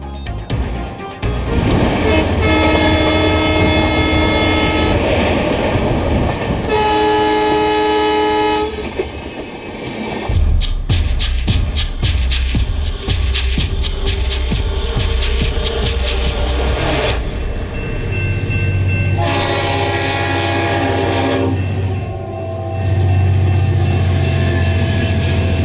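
Indian Railways train passing close by, with sustained loud horn blasts repeating over heavy rumbling and rhythmic clickety-clack of wheels on rail joints, continuous for about half a minute with no talk.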